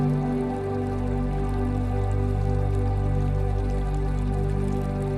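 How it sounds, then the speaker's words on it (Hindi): Gently flowing water murmurs softly and continuously, with faint drips and trickles over a steady low hum, calm and even with no voices. "आपके कानों में बहते हुए पानी की मंद मंद ध्वनि आ रही है।"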